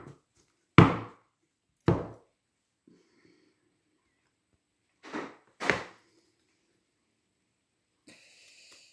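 A tarot deck is cut and set down on a table, giving a few sharp, isolated taps and slaps spaced apart in an otherwise quiet room.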